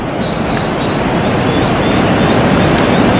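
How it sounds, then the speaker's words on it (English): Rough ocean surf rolls onto a beach in Costa Rica, a steady, close, broadband roar of breaking waves and wash that stays loud and even throughout, with no talking. "have a look at those waves out there."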